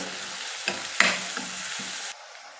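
Finely chopped capsicum and onion for pav bhaji sizzle in a pan, a bright hiss broken by a couple of stirring scrapes before the frying noise abruptly drops away near the end.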